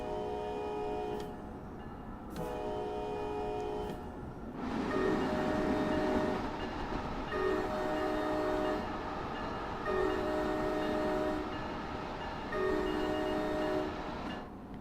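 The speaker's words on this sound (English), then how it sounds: "You have to blow the horn 6 times when you go over it." Locomotive horn on a bridge in Train Sim World 5, several long chord blasts repeated at intervals over a steady rumble of the train rolling along the track.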